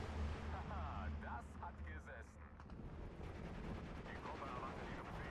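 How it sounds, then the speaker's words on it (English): Artillery fire in the Steel Division 2 wartime strategy game: a dense, rumbling barrage of distant booms and crackling impacts under a steady noisy wash, with someone talking over it. "Oh, but the artillery coming in."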